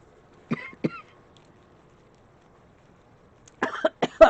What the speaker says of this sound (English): Pardon my cough